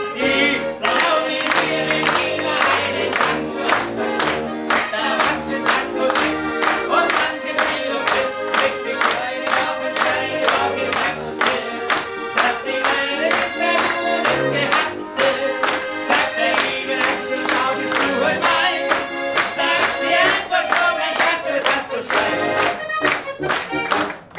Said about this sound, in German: wir klatschen!